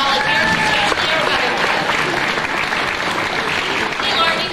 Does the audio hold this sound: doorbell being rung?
no